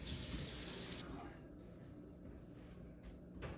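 Tap water runs into a kitchen sink to warm eggs while sweet potato cheesecake brownies are made, a loud steady gush that cuts back after about a second to a softer, continuing flow.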